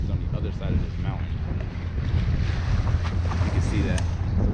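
A boat runs across the Sea of Cortez with a steady engine drone, water rushing along the hull and wind buffeting the microphone, while voices talk faintly underneath.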